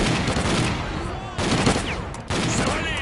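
Bursts of automatic gunfire from NPC squadmates in the S.T.A.L.K.E.R. Clear Sky video game, a dense rattling fusillade in three loud surges with brief dips between them.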